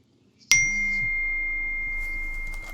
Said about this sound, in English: Ding. Yeah, that's my phone going off.